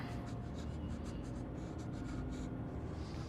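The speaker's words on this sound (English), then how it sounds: "He's scribbling!" A child scribbling on paper with steady, continuous scratching strokes, faint and close, over a low background hum.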